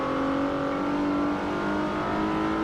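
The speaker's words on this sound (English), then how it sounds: "This car have a 3-liter V6." Renault 3-liter mid-engine V6 car in Forza Motorsport 4, its engine holding a loud, steady droning rev with a constant tone throughout.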